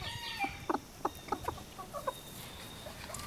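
A broody hen gives a short series of soft, rhythmic clucks close by, faint against a steady background hiss, with no talking.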